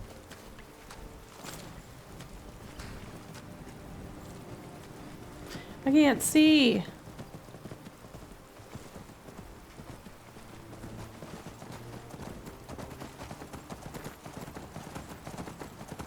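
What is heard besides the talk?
horse hooves in the video game Skyrim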